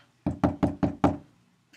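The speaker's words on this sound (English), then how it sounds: "let me knock." Five firm, evenly spaced knocks on a door, close and loud, with a short ring-out after the last one and no talk.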